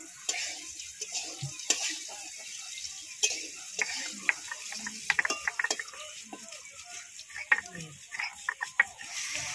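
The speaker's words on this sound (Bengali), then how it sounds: "আলুগুলো একটু লাল লাল করে ভেজে নিয়েছি, এবার তুলে নেব।" Potatoes frying in hot oil, a crackling sizzle with scattered sharp pops and stirring scrapes close by, moderately quiet throughout.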